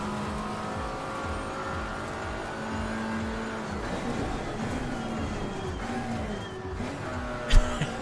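A GT4 race car in the Assetto Corsa Competizione racing game drones steadily with rising and falling engine revs, tire noise and a sharp knock near the end, without speech.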